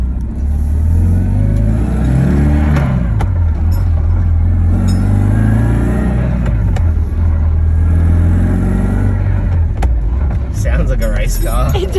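A BMW E36 with a manual transmission swap revs and pulls while driving, the engine note rising and falling through gear changes, loud and close from inside the car, with talk at times.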